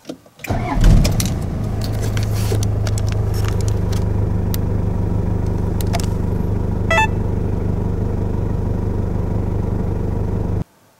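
A Toyota HiAce van engine cranks and catches, with its ABS warning light stuck on, then settles into a steady, loud, low idle that runs on without speech until it cuts off near the end.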